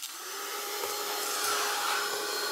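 A handheld dryer blows on wet paint in a craft project, giving a continuous airy whir that swells slightly partway through and stays steady, close and alone.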